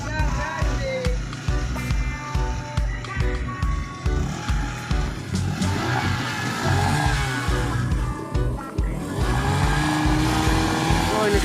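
A motorcycle engine revs in repeated throttle blips, close and loud, under people talking casually nearby.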